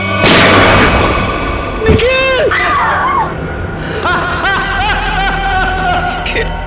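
A loud gunshot blast at the start, followed by ringing tones, shouting and a commotion of voices.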